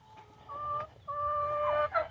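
Hens cluck inside a large backyard chicken coop, with a few drawn-out, rising calls in quick succession, close and clear over a low background.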